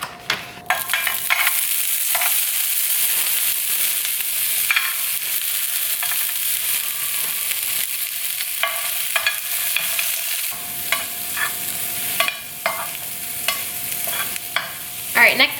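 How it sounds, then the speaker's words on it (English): Frozen shrimp hit a hot pan and fry with a loud, continuous hiss, broken by scraping and clinking from stirring, and no one talking over it. "once the pan is hot, I'm gonna go ahead and take my frozen shrimp right here"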